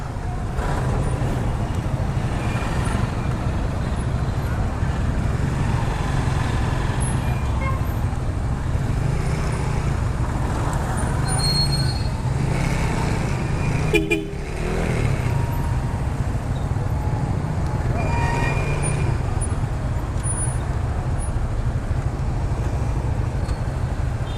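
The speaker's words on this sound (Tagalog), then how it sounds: "Sobrang traffic dito sa Naga." Heavy road traffic in Naga streams past, a continuous rumble of cars, buses and motorcycles with occasional horn toots, steady and close throughout.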